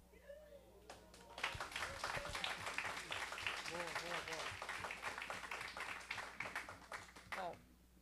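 Audience at a public meeting of a food security commission claps together, a dense burst of applause lasting several seconds before stopping abruptly, with voices around it.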